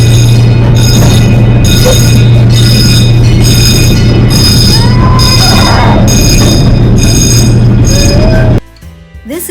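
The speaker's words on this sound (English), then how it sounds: "Then we came into Holodog's Fun Town with the nursery rhyme train" Nursery rhyme kiddie train ride at Holiday World amusement park, rolling steadily with a low constant hum and a bright repeating chime or bell pattern, plus occasional faint squeals, ending abruptly near the close.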